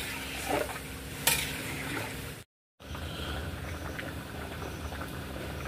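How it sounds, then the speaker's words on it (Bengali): Bengali sukto curry simmers in a pot with a steady bubbling, crackling patter, close and moderate, broken by a brief dropout of silence. "চলুন এইটা ফুটতে থাকে, এটা একটু ফুটলে তারপরে আর বাদ বাকি মশলাগুলো দিয়ে দেবো"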